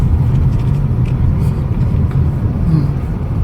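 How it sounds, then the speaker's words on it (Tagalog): A vehicle approaches near a hanging bridge outdoors, its low steady engine rumble sustained and loud throughout, with some faint voices in the background. "Ayun na yung sasakyan, oh."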